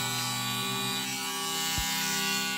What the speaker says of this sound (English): sharpen them with this metal grinder and get those teeth very sharp